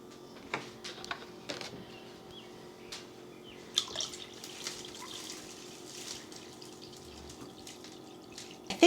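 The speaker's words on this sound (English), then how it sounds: "take this water and gently pour it in" Water poured gently into a home fish tank, a soft intermittent trickle and splashing with scattered drips and small clinks, quiet and close.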